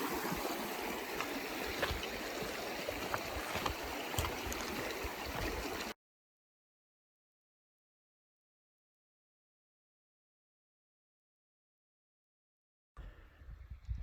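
Mountain stream rushing through a valley in Kananaskis, a steady broadband wash of flowing water up close that cuts out midway, then briefly returns near the end.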